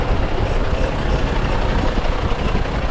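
A truck passes close by on a narrow road in Utrecht and brakes, its heavy engine rumbling loudly and steadily throughout.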